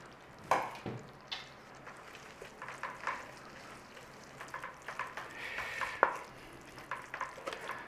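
Spinach wilting in a pan with Parmesan for one-pan Tuscan chicken: a soft, quiet sizzle with scattered clicks and scrapes of a utensil stirring, a few sharper taps standing out.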